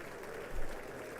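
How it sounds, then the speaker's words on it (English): Faint, sparse applause in the chamber during the State of the Union address, a thin patter of polite clapping heard from a distance, briefly swelling. "They're giving the obligatory golf claps."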